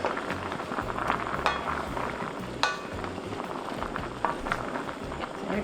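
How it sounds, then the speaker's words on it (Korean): Spoon stirring soy sauce braised small potatoes simmering in a pot, a continuous bubbling sizzle with a few sharp clinks of utensil against the pot. "위아래로 한번 저어줄게요"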